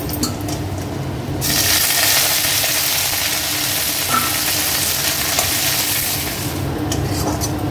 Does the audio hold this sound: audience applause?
no